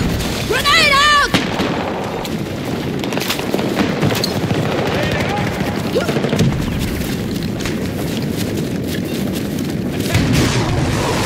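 A grenade blast and heavy gunfire crash through a Battlefield 2042 match, the boom loud and near amid rattling shots, while players talk over the action.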